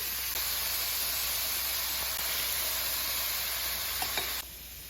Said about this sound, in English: We're gonna slowly turn the heat down on this, saute this down